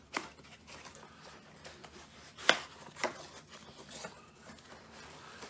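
Cardboard boxes holding Backcountry cast iron skillets rustle and crinkle as they are opened. The handling is quiet and close, with a few sharper tearing or snapping accents in the middle.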